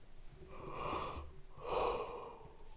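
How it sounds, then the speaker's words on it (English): A person yawns twice, each one a long, breathy swell that rises and fades, close and fairly quiet with no talking. "Sorry, I can't stop yawning."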